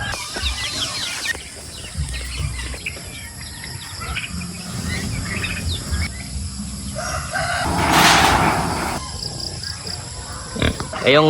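Chickens and a rooster on a small farm cluck and crow among pig grunts and insect buzz, with someone talking over the farmyard noise throughout.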